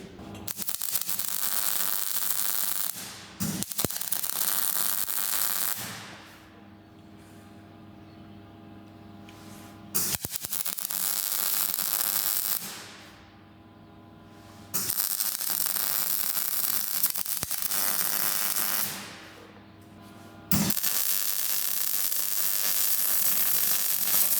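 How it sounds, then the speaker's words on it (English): Welding bursts along the cracks of an old abandoned barn-find machine: several long, loud, hissing crackling passes of a few seconds each, separated by quieter pauses with a low hum. "We'll weld this up and then, well, hopefully it'll be as good as new."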